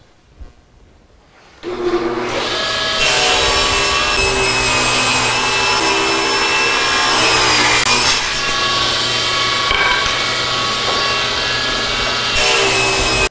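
After a quiet moment, a table saw cuts small half-inch pieces of wood with a loud, steady whine and rasp that holds on for several seconds, up close with no talking.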